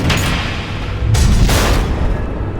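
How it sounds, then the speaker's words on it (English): Missiles blow up in an animated Batman episode, a string of heavy, close booms with two sharp blasts rising out of continuous rumbling, no voices over them. "The missiles."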